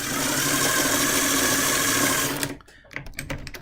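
A drill spinning a stropping wheel whirs steadily at high speed for a couple of seconds, then stops abruptly, leaving scattered clicks and handling noises.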